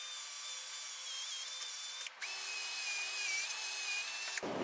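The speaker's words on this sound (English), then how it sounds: "I hate drilling out tons and tons of rivets" A power drill whines steadily as it bores out rivets on a Fractal XL R PC case. The high, sustained motor tone breaks off briefly, restarts, and runs on close and alone until it cuts out at the end.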